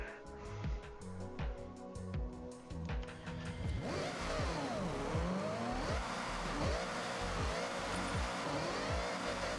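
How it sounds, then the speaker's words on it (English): A 2024 Chevy Camaro in Forza Horizon revs hard through rising gear shifts, its engine note climbing and dropping repeatedly as the tires spin and squeal under heavy acceleration, loud and close. "I'm gonna be spinning wheels all the way into freaking 5th gear."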